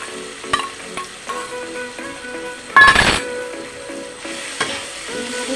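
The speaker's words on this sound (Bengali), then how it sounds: "একটু যদি ভেজে তেলে ভেজে দেবো" Vegetables frying in hot oil for a stuffed teasel gourd and pointed gourd dish give a steady close sizzle, with occasional utensil clinks and a louder stirring burst midway.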